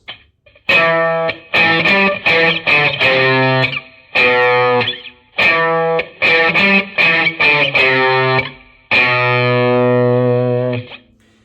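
A distorted electric guitar plays a riff of single-string notes in short bursts, ending on a long sustained note.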